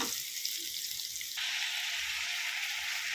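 Steady crackling sizzle of tempering spices hitting hot oil for a beetroot, carrot and potato curry, close and continuous, growing brighter and louder partway through.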